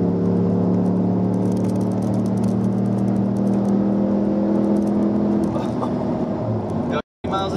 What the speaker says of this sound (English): we're gassing it right now